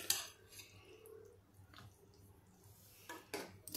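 A spoon serves cowpea curry (usal) from a pot into a dish, making faint, close metallic clinks and soft scrapes, with a small knock at the start and a couple more near the end.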